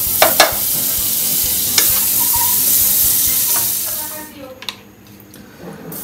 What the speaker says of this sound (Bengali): বাটার দিয়ে হচ্ছে ফ্রাই প্যানে হচ্ছে একটু গরম করে নিলাম